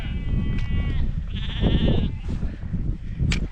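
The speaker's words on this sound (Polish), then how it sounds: "Owce się trochę spłoszyły, ale póki co nie ma jakiejś paniki." Several sheep of a flock on Mount Kazbek bleat close by, overlapping cries over a low rumble of shuffling and outdoor noise.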